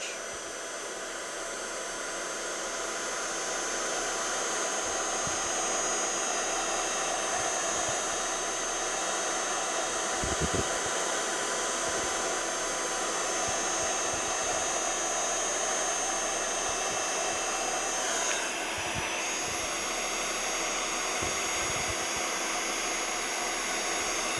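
A heat tool blows a steady, loud, close whoosh as it heats an embossed image on a pink flower card background. The airflow runs unbroken for over twenty seconds, with faint small taps and no talk.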